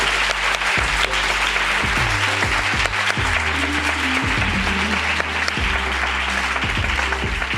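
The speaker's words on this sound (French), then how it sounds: "Je vous applaudis." A live audience at a public discussion event breaks into loud, sustained applause, dense clapping that fills the whole stretch with no pauses and no clear talking.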